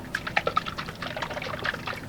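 Water sloshing inside a mature coconut as it is shaken by hand, making a faint, rapid series of small liquid knocks and splashes close up, with no talking.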